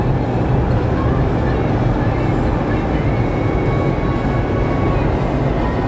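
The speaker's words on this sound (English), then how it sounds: "He's landing at the private runway." An airplane lands at a private runway, its loud steady roar rumbling as a dense, continuous wash of broadband noise throughout.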